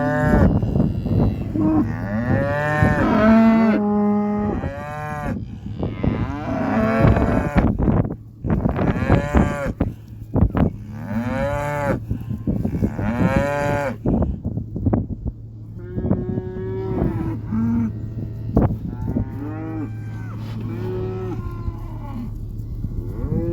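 Cattle on a working ranch moo repeatedly over about twenty seconds, loud and close with several animals calling in overlapping, uneven bursts, some long drawn-out lows, against a steady low background hum.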